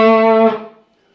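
A distorted electric guitar opens a solo with a single bright, buzzy sustained note that rings strongly for about half a second, then fades and dies away.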